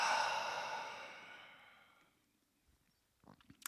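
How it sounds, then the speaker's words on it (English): A single long, breathy exhale through the mouth starts loud and close, then fades slowly into near silence, followed by a few faint small movement sounds. "let's take a nice deep inhale through the nose and exhale through the mouth"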